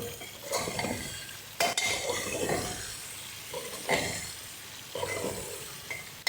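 Whole brinjal curry being tempered in hot oil in a pan: steady sizzling and frying with spoon stirring scrapes and occasional clinks, close and continuous.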